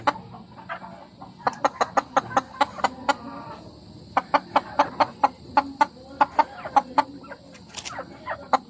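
Gamecock rooster, an inbred kamakyado, clucking in a repeated series of sharp, close calls with a short pause midway, alone with no talk over it.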